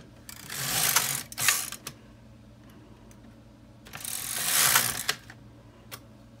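An LK 150 knitting machine carriage makes two rattling, clattering passes across the needle bed while a Christmas stocking is knitted. Each sweep lasts about a second and a half, with quiet pauses between them and no talking.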